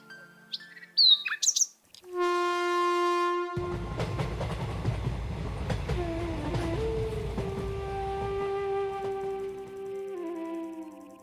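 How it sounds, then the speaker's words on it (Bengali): A train pulls into a station with a sustained horn-like tone, rumbling wheels and a squeal of brakes, while birds chirp over a musical opening. "ট্রেন ঢুকেছে"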